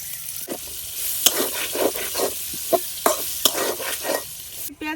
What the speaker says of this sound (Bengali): এখন মাছ ভাজার তেলের মধ্যেই দিয়ে দিতেছি একটু পেঁয়াজ